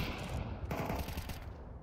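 Rapid automatic gunfire in a first-person shooter match, a dense, loud stream of shots with no pause, close up and heard alone without voices.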